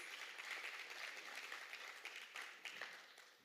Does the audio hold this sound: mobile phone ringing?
no